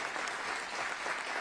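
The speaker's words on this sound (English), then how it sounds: "I'm going to measure that and see if that's the same level of applause when I finish" Audience applause for the Seattle mayor at a State of the City address, a soft, steady spread of many hands clapping, faint and distant-sounding throughout.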